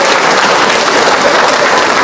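An audience at the closing of an extraordinary regional PKK working meeting in Indonesia bursts into loud, dense applause that holds at full strength throughout the brief stretch, with no speech over it.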